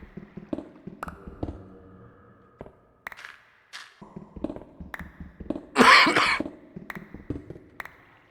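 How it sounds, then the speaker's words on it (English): A single harsh, loud cough stands out amid scattered clicks, taps and small thumps, with quiet gaps between the noises. "God damn it, I'm still coughing."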